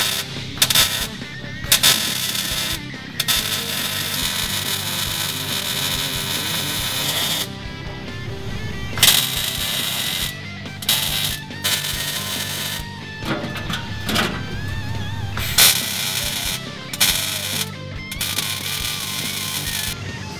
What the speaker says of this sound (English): now that we have our reinforcement modified, we're going to weld it in place